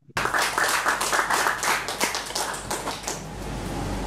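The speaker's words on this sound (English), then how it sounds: "Join me to welcome Rebecca Wolff with a round of applause, please." An audience at a lecture on Nigerian art gives a round of applause to welcome the speaker, a burst of clapping that starts abruptly and thins into scattered claps before fading to room noise.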